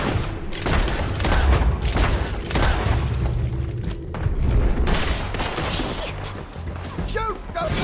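Heavy gunfire rages in a Red Dead Redemption 2 shootout, with dense volleys of shots, booming blasts and crashes stacked loudly and almost without pause, while voices shout over the fighting.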